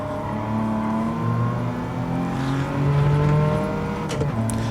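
Mercedes 300 SL engine racing in Gran Turismo, a steady loud drone with shifting pitch and occasional gear-change clunks, no talking.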